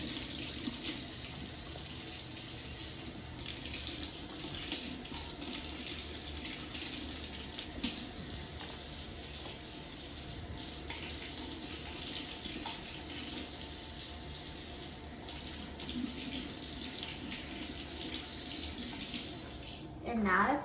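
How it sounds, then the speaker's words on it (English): Tomatillos rinsed under cold running tap water, a steady close faucet stream with soft splashing against the fruit and sink, lasting throughout with a brief louder clatter at the very end. "So just wash them under cold running water."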